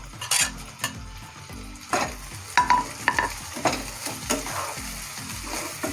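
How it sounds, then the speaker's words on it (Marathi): Finely chopped tomatoes hiss and sizzle as they fry in a pan for a beans masala, with a spoon scraping and clinking against the metal in an uneven rhythm, fairly close and without talk. "याच्यामध्ये 2 बारीक चिरलेले टोमॅटो टाकायचे।"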